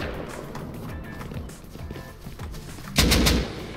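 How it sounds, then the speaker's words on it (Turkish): A rocket fired into a base in the Rust video game: a sudden loud, broad blast lasting under half a second near the end, after a stretch of busy, muffled game noise. "Oha, herif içeri roket attı"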